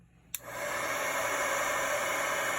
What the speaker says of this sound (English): it's just time to grab your heat tool and we're going to go to town melting